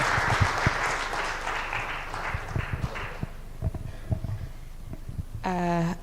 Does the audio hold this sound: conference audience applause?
yes